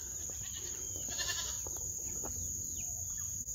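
Goats bleat at a farm, with a few short, moderately loud cries rising over a steady background hum, and a faint bird sound in the mix.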